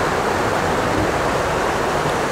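The Umbulan river flows in a steady, dense rush of water, loud and continuous with no voices over it.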